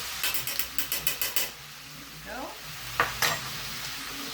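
Onions sweating in a pan for Cape-style pickled fish, a quiet background sizzle under a quick run of about eight rhythmic spoon scrapes, then a few scattered clanks and scrapes, close and without talk.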